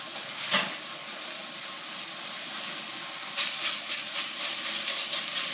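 Close, steady sizzle of chicken frying in a hot pan, with a few sharper crackles and pops near the end and no talking.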